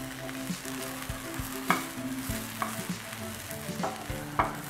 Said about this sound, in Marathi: गवारीचा थोडासा कलर बदलेपर्यंत परतून घ्यायचं आहे.